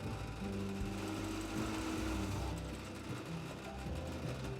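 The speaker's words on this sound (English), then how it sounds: "Then I'll drill it out with 1," A steady motorized whir with a droning hum from a power drill boring into wood for a lamp build, continuous and fairly close with no talking.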